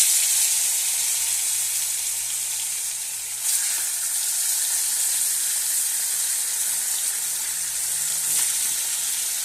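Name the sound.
bata fish frying in hot oil in a kadai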